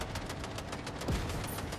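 Enemies in a video game open fire, producing a steady stream of rapid gunshots in a dense volley at moderate distance, with a brief whooshing sweep near the end and no one talking.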